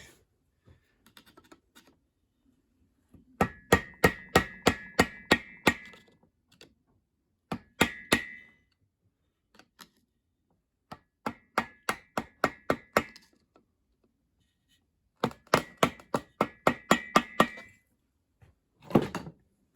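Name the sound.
bending down a lock tab on a Kawasaki engine bolt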